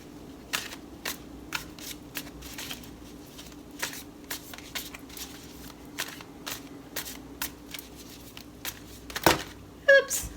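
A Light Seers tarot deck is shuffled in a steady run of crisp riffling card flicks, close and clear, ending in a louder flurry as several cards spill out.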